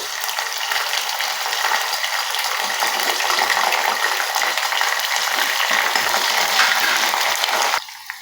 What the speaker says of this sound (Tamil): கற்றாழை வந்து நம்ம போட்டதுக்கப்புறம் நல்லா வேகுது பாருங்கள்